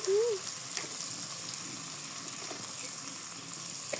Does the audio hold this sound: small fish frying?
yes